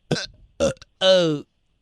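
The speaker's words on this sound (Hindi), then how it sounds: "ये तो डकार के टाइम भी आवाज आती है" A voice lets out three throaty, burp-like belches during a phone call. The first two are short and the last is long and drawn out. All are close and loud.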